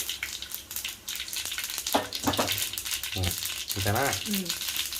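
Mustard seeds crackle and sizzle in hot oil before asafoetida goes in, for a mango and moong dal pickle; steady frying hiss with sharp pops, heard under someone speaking.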